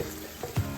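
An egg fries in a pan with a soft, steady sizzle, faint and close, lasting under a second.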